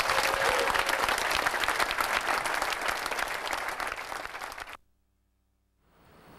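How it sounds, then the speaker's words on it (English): A crowd claps steadily for several seconds, then the applause stops abruptly into silence. "So I'd also like to give everyone here a round of applause."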